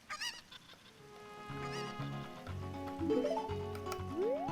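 A bird in The Legend of Zelda: Ocarina of Time lets out several short honking calls over game music, loud and close, with a rising tone near the end.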